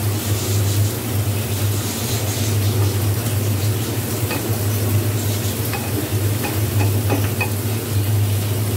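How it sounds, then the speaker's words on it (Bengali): Beef and chana dal curry, just dusted with garam masala, gets stirred in a pot over a soft bubbling sizzle and a low steady hum. A spoon scrapes and taps against the pot at irregular intervals. "গরম মশলা গুঁড়া দিয়ে নাড়াচাড়া করে নামিয়ে ফেলবো।"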